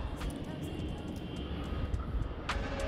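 Two DJI Mini 3 Pro drones hover overhead, their steady motor whine faint and distant beneath outdoor background noise, with a few short sharp clicks scattered through.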